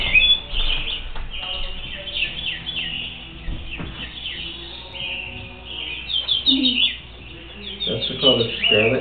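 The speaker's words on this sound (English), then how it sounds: "That's called a scarlet tanager." Over about nine seconds, a scarlet tanager's repeated chirping call phrases sound at moderate volume, clear and fairly close, with faint voices and soft background noise now and then.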